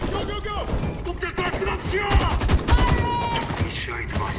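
Enemy gunfire in Homefront The Revolution, a dense fusillade of rapid shots and bursts crackling throughout, loudest in the second half, with someone talking over the firing.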